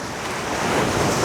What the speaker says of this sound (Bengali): কি পরিমাণ মানে ঢেউয়ের আওয়াজ দেখেন